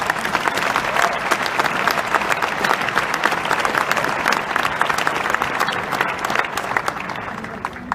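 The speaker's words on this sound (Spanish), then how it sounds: "Les pido un aplauso para ellos." A large audience at a conference in Aguascalientes, Mexico applauds steadily, dense continuous clapping that holds its level for several seconds before easing slightly at the end.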